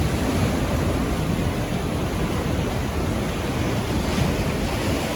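Ocean surf rolling onto a beach on an Australian coastal road trip between Sydney and Brisbane, a steady loud wash of breaking waves with wind noise buffeting the microphone throughout, no voices.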